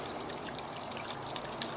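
A small pump in a homemade Halloween animatronic prop sends water splashing in a steady, continuous trickle, close and even in level with no voices.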